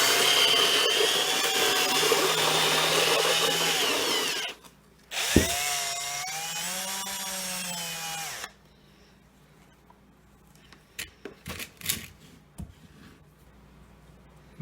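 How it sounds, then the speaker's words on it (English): A power drill with a mixing paddle churns floor tile mortar in a bucket, a loud steady whir for about four seconds, then a second burst after a short pause, followed by quieter scraping and knocks. "if you look at the bucket while I'm mixing it, this is the consistency it needs to be"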